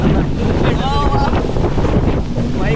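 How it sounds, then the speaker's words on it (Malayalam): Seawater splashing during a rough boat ride at Coral Island, Thailand, a steady roaring wash of spray and strong wind buffeting the microphone, with faint voices underneath. "വെള്ളം മൊത്തം തെറിക്കുന്നുണ്ടല്ലോ."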